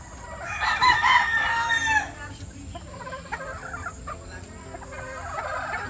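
Breeding roosters at Rolling Hills game farm in Montalban, Rizal, one loud, close crow lasting about two seconds, followed by softer clucks and distant crowing from other birds, with someone speaking faintly.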